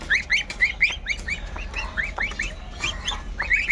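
Young goose goslings, over a month old, call in repeated high peeping cheeps, several birds close by against a low background murmur.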